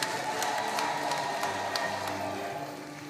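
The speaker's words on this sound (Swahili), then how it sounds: "Tumpigie makofi ya kutosha" Applause from an audience at a decennial mission celebration in Kituri, Tanzania, steady and fairly distant, a diffuse patter of many hands that fades slightly toward the end.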